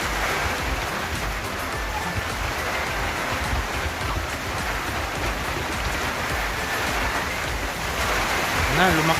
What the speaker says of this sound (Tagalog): lumakas yung ulan